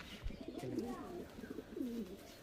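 Laldum pigeon at a loft cooing softly in a few rolling, throaty phrases, fairly close, with faint background noise.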